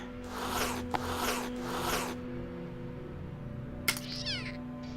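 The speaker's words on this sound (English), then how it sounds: "Yep, here come the cats." Cats meowing in the video game Underrail, with several drawn-out yowls close together near the start and a sharp cry later, all faint over a low steady hum.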